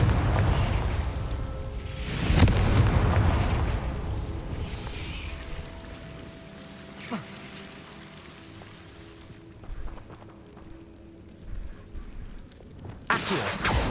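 Fiery spell blasts from a wizarding video game: a deep booming rumble swells early, then fades into a low crackling tail, with a few sharp hits scattered later and a loud burst at the end.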